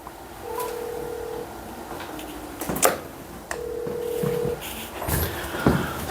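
A telephone plays two long steady tones, each about a second, separated by clicks and handset handling noises, heard close up in a quiet room.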